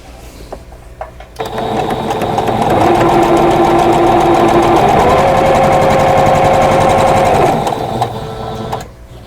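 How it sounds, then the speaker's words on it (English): A sewing machine stitches quilt fabric pieces for a flower basket block, starting with a few clicks and then running in one loud, steady, close whir for about six seconds before slowing to a stop. "on this piece I'm going to sew the blue to this side"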